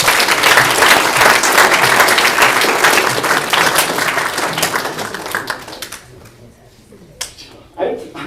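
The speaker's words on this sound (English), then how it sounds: "Everybody give Sam a round of applause." An audience applauds loudly and steadily for several seconds before the clapping fades into scattered claps and quiet room noise.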